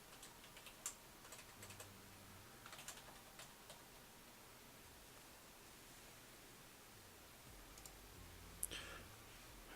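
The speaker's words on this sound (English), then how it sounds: "Oh, probably because I was typing" Computer keyboard keys clicking in a quiet room during Minecraft play, a faint, irregular patter of soft typing taps with a low hiss behind it and no voices.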